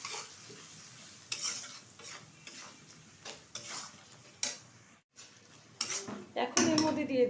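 Mutton sautéed with turmeric and salt in a pan: a spoon scrapes and clinks against the metal while a low sizzle runs underneath, in close, uneven stirring strokes that grow busier toward the end.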